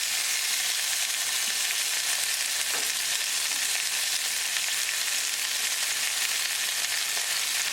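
Chicken breast fries with lemon juice in a skillet over medium gas heat, giving a constant, dense, even sizzle throughout with no voices.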